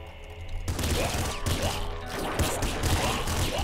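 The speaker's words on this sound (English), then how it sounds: "Smart gun." A smart gun firing in the video game Nuclear Throne, a dense rapid stream of loud shots crackling continuously over busy game sounds.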